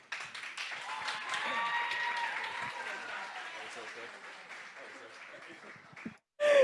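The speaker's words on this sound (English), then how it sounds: "Now make some noise for yourselves" An audience at a community launch event claps and cheers loudly, a dense, sustained wash of applause with shouts that gradually fades, before a voice speaks up near the end.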